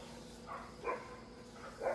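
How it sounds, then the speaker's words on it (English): Pet dogs barking at a passing recycling truck, several short barks in an uneven rhythm, fairly faint and somewhat distant, in a quiet room. "My dogs are going to bark."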